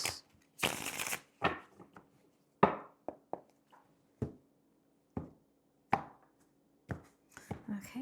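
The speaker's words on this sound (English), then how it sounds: "Shuffle for my Taurians." A tarot deck is shuffled up close, with repeated short crisp slaps and riffles at an uneven rhythm, mostly on their own, with only faint breathy voice sounds.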